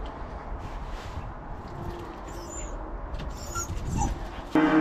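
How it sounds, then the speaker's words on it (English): Four farm dogs on a Scottish farm wait to be fed, giving scattered whines, yips and short barks at moderate distance over a quiet outdoor background, with a clatter near the end. "you can hear everybody's making a lot of noise right now. They weren't fed"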